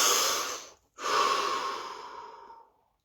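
A single deep breath taken during a guided relaxation breathing exercise: a long, close airy inhale, a brief pause, then a slow exhale that fades to quiet, with no talking.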